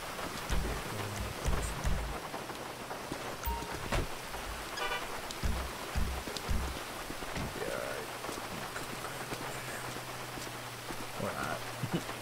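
Steady rain falls around a driveway outside a house, a broad constant hiss running through the whole stretch with scattered low thumps and brief voices underneath.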